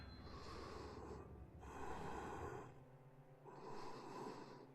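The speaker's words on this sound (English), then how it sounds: "Someone's breathing on the phone." Heavy, ragged breathing from a caller on the phone in a horror video game, three long drawn breaths in steady succession, close and fairly loud with no talk over them.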